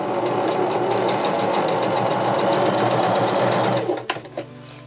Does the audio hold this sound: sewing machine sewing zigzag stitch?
yes